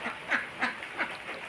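Ducks quack at a farm home, with several short nasal calls in a steady rhythm at moderate distance, quiet in the background.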